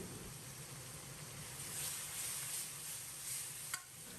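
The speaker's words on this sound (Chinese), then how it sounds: "开中火把酱炒出香味" Bean paste and hotpot base stir-frying in a wok over medium heat, a steady broadband sizzle with scraping stir sounds and a brief sharp clink near the end, no talk.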